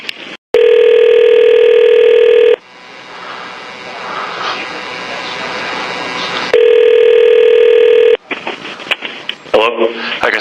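A telephone rings before a recorded phone call: two long, loud electronic ringing tones, each a couple of seconds, with a quieter gap between them and some brief noise at the end.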